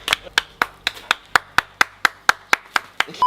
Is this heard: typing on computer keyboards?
no